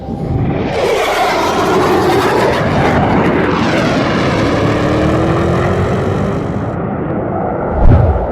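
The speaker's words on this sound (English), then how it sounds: "Air Self-Defense Force F-15 fighter jet scramble launch video" A Japan Air Self-Defense Force F-15 fighter jet launches on a scramble, its engines giving a loud sustained roar with a rising whine that holds steady and then swells into a final blast.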